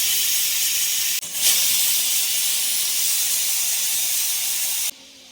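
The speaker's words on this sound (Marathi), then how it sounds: "आता आपण कुकर लावून घ्यायचा आहे. कुकरला रिंग लावायची आहे." A pressure cooker of toor dal lets out a loud, steady steam hiss that falters briefly near the start, then holds for several seconds before cutting off abruptly.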